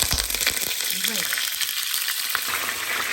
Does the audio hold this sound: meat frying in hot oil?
yes